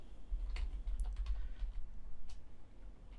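A username is typed on a computer keyboard in a quiet room, a close run of soft, rapid key clicks.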